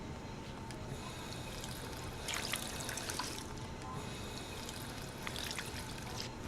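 Clean Vault-Tec water runs in the Fallout video game, a faint, steady trickle and pour that swells slightly in a few places, with no voices.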